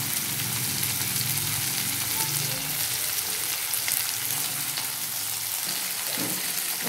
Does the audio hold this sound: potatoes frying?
yes